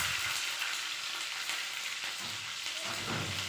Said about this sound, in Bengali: তারপর এগুলি একটু ভাজা হলে তার মধ্যে কাঁচা লঙ্কা চেরা দিয়ে দেব